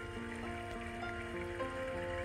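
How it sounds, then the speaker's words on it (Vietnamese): A flowing-stream background sound played from an iPhone's built-in background sounds feature: a soft, continuous watery rush at an even, gentle level, with faint steady tones beneath and no speech. "Và cái tiếng suối là cái tiếng nhẹ nhàng nhất."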